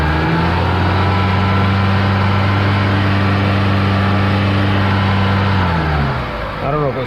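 Chrysler PT Cruiser engine held at about 2500 RPM, a steady, close, even drone that drops back toward idle near the end.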